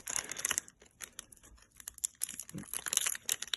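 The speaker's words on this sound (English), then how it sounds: "We'll just tear aside this one." Foil wrapping of a Pokémon booster pack from an Eevee Heroes box crinkles and tears in short, uneven bursts, close and quiet, with pauses between the tugs.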